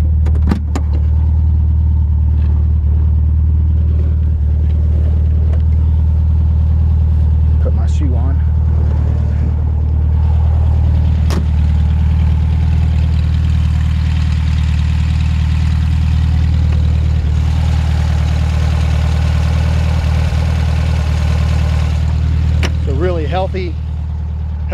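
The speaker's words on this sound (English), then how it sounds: "Healthy little Beetle engine." A 1972 VW Beetle's small air-cooled engine idles steadily with a low, even rumble throughout, a few brief rattles and faint voice-like chirps riding on top.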